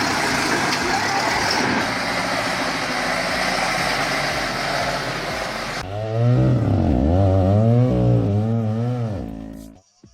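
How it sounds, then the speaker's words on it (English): A FAP-16 Balkan forestry skidder truck fitted with the GV-75 belt system, working in mud: a loud, close broadband engine roar, then a heavy engine revving hard, its pitch rising and falling for several seconds before cutting off. "Front wheels off the ground, that is the torque of the FAP-16, equipped with the GV-75 belt system."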